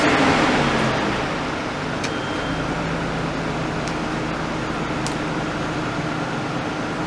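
A Nissan R32 Skyline GTS-t engine idles steadily and close by just after a Walbro 255 fuel pump upgrade, a constant low drone with a few faint clicks, and no revving.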